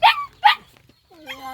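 A dog gives two sharp, close barks in quick succession, followed after a short pause by a drawn-out whining whimper.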